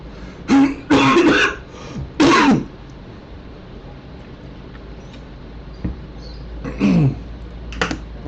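Several short bursts of throat clearing from an adult during a Portuguese-language Salesforce lecture, bunched at the start with a couple of fainter ones later, separated by quiet room tone and a few faint clicks.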